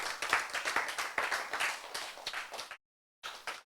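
A congregation at a church sermon breaks into a short burst of close, quick clapping that tapers, cuts to silence, then resumes briefly.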